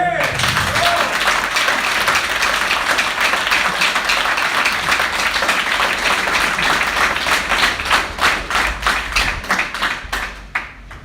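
A live audience at a DXN business event breaks into a loud, sustained round of applause, many hands clapping densely for about ten seconds before thinning into scattered claps and fading out.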